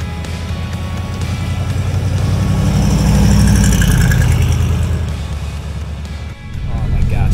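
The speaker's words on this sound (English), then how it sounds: "Loud rumble car from the 70s" A 1974 Chevrolet Corvette C3 engine idles with a loud, deep low rumble that swells slightly midway and then dips briefly before settling back, heard close and alone with no talking.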